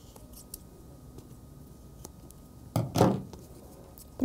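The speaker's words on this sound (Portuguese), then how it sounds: "Deslizando a tesoura, para não ficar nenhum degrau." Scissors snip around a handmade craft photo frame: a few sparse, light clicks, then a louder burst of slicing cuts close by, with no talking.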